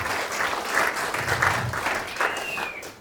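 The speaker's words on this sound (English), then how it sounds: "I think that's worth a round of applause." An audience at a stand-up comedy charity show claps for a few seconds, a steady wash of applause that swells and then tails off.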